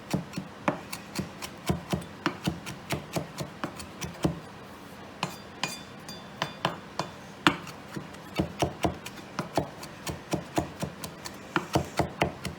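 A knife chops leaves into chiffonade on a cutting board, a long run of sharp, close, even knocks with brief pauses between bursts.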